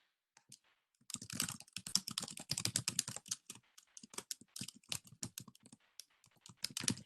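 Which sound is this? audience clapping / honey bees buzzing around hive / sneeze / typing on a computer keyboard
typing on a computer keyboard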